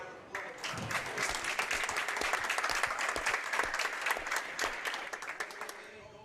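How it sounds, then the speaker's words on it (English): Audience applause at a girls' under-15 bowling championship, a dense, loud round of many hands clapping that builds quickly, holds steady and tapers near the end, with a few voices mixed in. "Let's give her a round of applause."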